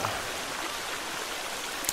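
Water flows steadily along a stream in The Forest survival game, a constant close rushing and trickling wash with a brief clatter at the very end.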